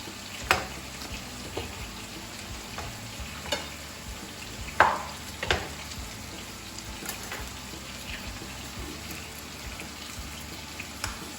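Potatoes fry in a pan with a steady, crackling sizzle, broken now and then by small sharp pops and faint clinks of a utensil, with no voices.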